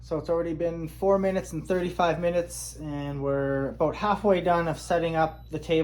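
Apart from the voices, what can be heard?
No distinct noise like a dog, phone or traffic.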